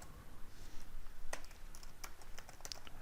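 Python code being typed on a computer keyboard: quick, irregular key clicks in small bursts over a steady faint room hiss, close and clear.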